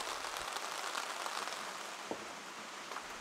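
Rain falling outdoors at a private sauna, a steady dense hiss of drops on surfaces with a few sharper taps, even and continuous throughout.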